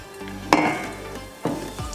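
Lamb meatballs made with vegetables and egg frying over a low flame in a lidded pan, a soft sizzle with two sharp clatters, likely the lid or a utensil, at close range.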